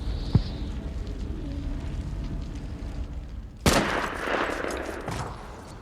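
Gunfire in the war film Saving Private Ryan: a single sharp shot early on, then a loud burst of rapid firing and rumbling explosions that keeps going under a noisy battle din.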